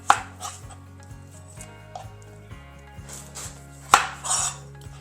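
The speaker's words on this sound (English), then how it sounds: "You want to cut off the ends of the onions." A knife cuts the ends off onions on a cutting board, giving a few sharp, close chops and taps among quieter kitchen handling sounds, with a steady low hum underneath.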